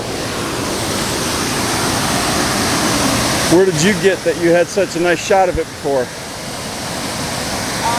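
Copper Falls on the Bad River Gorge in Wisconsin gives off a steady, broadband roar of falling water. A voice talks briefly over it midway through.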